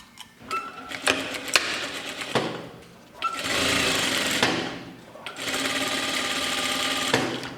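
A sewing machine stitches a blouse in bursts, running in several steady whirring stretches broken by short pauses, close and fairly loud, with no talk.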